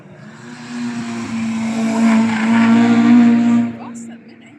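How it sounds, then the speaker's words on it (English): A Honda Type R passes at speed on a race track day at Cadwell Park, its engine note building loud and steady over a few seconds, then cutting off as it moves away. "That sounds like a Type R."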